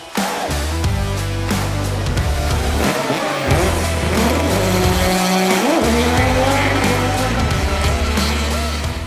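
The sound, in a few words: Volvo race car driving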